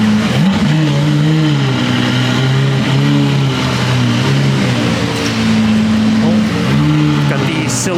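Lamborghini Aventador with RGB lights rolling out of the Tokyo Auto Salon, its engine droning loud and steady with rising and falling revs over a busy crowd backdrop, with faint talk mixed in.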